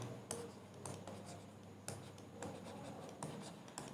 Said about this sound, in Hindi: देखिए यहाँ पर हम सबसे पहले गरिमा को लिख लेते हैं।